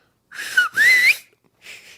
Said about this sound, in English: I can do like a bunch of whistles